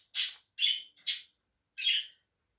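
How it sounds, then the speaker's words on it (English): A pet budgie gives four sharp, clear chirps close by, each short and bright, with brief silences in between and a longer gap before the last one. "Budgie Interruptions."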